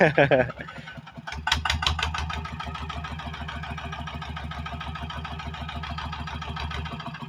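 A Yanmar TF120 DI single-cylinder diesel engine, a small walking-tractor type fitted for cassava ridging, starts with a short burst of noise and then settles into a steady, even, thumping idle, close and loud, with no voices.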